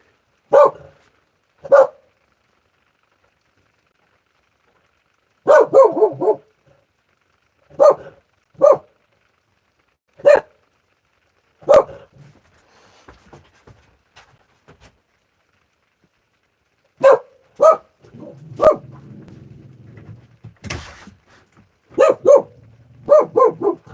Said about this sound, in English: Keep barking, bro.